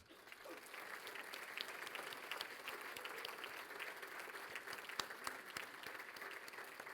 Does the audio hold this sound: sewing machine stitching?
no